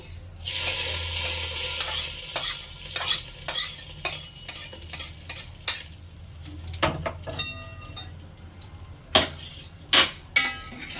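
A spoon stirs a garam masala tempering into cauliflower khichuri, giving a rhythmic series of scrapes and clacks against the pot over a faint low sizzle, close up, thinning out toward the end.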